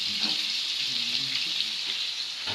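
Steady crackling sizzle of food frying in a pan, continuous and fairly close, with faint clinks and movement underneath.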